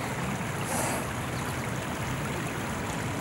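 A river flowing beside a garden trail at Edward Garden, a steady broadband rush of moving water that holds even throughout with no voices.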